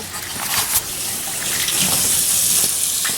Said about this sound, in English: just scrubbing it down with soap and water, getting all the crap off of it, inside, outside